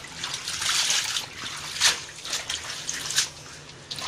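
Water poured over acacia pods to rinse off dirt, giving a steady splashing trickle with a few louder splatters, close by and without speech.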